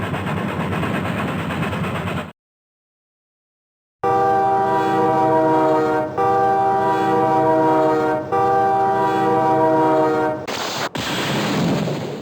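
A train runs on the railroad in the 1993 DOS game SimCity Enhanced CD-ROM, with loud, sustained synthesized horn blasts repeated over rumbling, broken by a brief silent gap.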